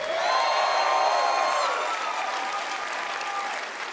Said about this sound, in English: Another round of applause, please, for Todd Howard